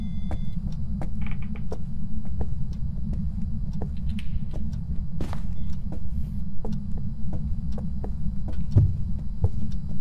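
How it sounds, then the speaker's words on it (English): A steady low thumping heartbeat in the video game Phasmophobia pulses under a constant rumbling drone, with scattered faint clicks and taps on top. "Oh shit, I hear heartbeat."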